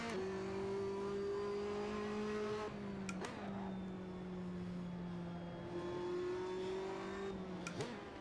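A race car engine in a racing video game holds a steady high drone, briefly dropping pitch with a bump around three seconds, then revving on with faint tire noise and a sharp knock near the end, no voices.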